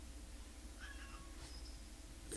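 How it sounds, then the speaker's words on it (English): A house cat gives a couple of faint, short meows, indoors and quiet over a low background hum. "My cat says meow."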